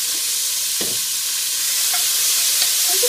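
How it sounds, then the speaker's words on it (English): Vegetables seasoned with red pepper flakes and salt sauté in a pan, giving a steady close hiss of sizzling oil with a few soft scrapes and clicks of stirring. "I'm just going to saute these a little bit."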